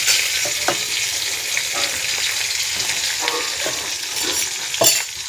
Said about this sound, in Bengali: তেলটা গরম হচ্ছে, তাতে দিয়ে দেবো আমি 4টে কাঁচা লঙ্কা চিড়ে